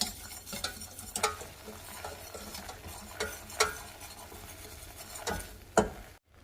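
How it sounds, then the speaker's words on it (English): A butter and flour roux cooking in a pan for a King Ranch casserole, a soft bubbling sizzle with several sharp utensil scrapes and taps, heard close, ending abruptly in silence. "combine the butter and the flour and cook this. It's going to kind of gently simmer and bubble"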